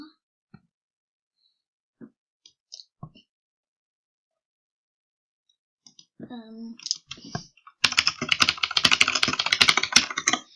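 Scattered single key clicks give way to a muffled voice-like sound, then to fast, dense typing on a computer keyboard, a close, busy clatter of rapid keystrokes.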